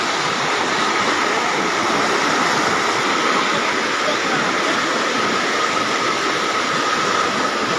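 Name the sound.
rushing floodwater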